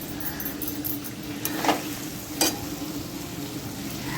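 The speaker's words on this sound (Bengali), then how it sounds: "মশলাটা দেওয়ার পর একটু 2-4 মিনিট ভালোভাবে কষিয়ে নিচ্ছি।" Ground spice paste frying with meat in a pan for fried rice makes a steady low sizzle, with two sharper clanks of a spatula or utensil against the pot midway and no speech.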